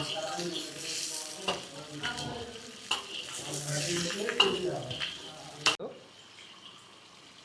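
Gongura (sorrel) leaves, white and red varieties, frying in a pan for gongura gravy make an uneven sizzle with stirring clatters and sharp utensil knocks, ending abruptly in near silence.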